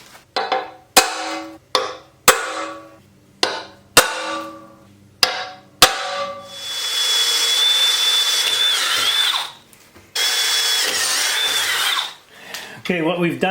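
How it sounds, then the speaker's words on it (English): A drill bores holes in the bottom plate of a log splitter build, first in about six short loud bursts, then in two longer sustained runs with a rising whine, close and loud. "we drilled all the holes a little bit smaller"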